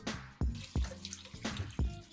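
Rice is rinsed in water, with repeated sharp splashes and pours at a loose, uneven rhythm, close up and fairly quiet, with no talking.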